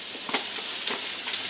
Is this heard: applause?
no